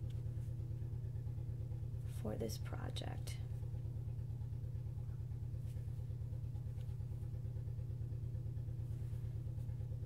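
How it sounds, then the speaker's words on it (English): A small tractor engine runs outside a window with a steady, rhythmic low putter throughout, distant and muffled, while a voice speaks briefly near the start. "I am listening to my husband's little tractor"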